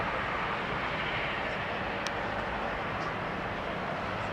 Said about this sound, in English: This is Jet Airways, Airbus A330-300.